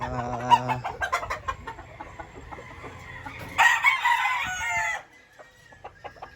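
White Kelso gamefowl roosters crow nearby on a game farm, one long crow rising above the others, with scattered clucks and calls from several birds around it.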